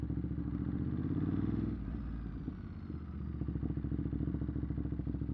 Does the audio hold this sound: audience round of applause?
no